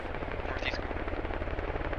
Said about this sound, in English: More Dishka rounds